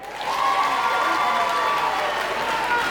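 Crowd applause at a political rally, a steady dense wash of clapping that holds evenly throughout without a clear voice on top.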